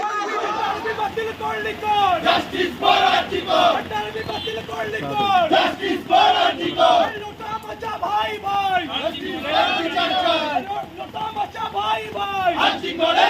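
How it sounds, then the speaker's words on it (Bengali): A marching crowd of East Bengal and Mohun Bagan football supporters in Howrah chants protest slogans demanding justice for RG Kar, voices rising and falling in loud repeated rhythmic calls, with chatter in between. "মিছিলে স্লোগান ওঠে ঘটি বাঙাল ভাই ভাই আর্যিকরের বিচার চাই"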